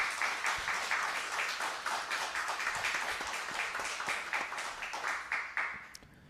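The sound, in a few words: audience applause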